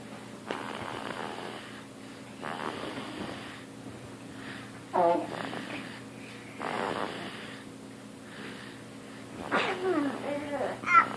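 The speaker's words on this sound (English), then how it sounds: "He's snoring." A child snoring while asleep, slow rasping breaths that rise and fade in a repeating rhythm, close by, with an adult talking softly between them.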